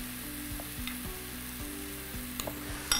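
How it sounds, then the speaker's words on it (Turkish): Spoon stirring Uzbek pilaf in a hot pan, steady scraping strokes over a continuous frying sizzle, close and moderately loud, no voices. "Ondan sonra bunu da böyle güzelce karıştıracağım."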